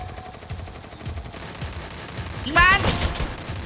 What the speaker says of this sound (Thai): มีคนยิงกันอยู่บ้านนี้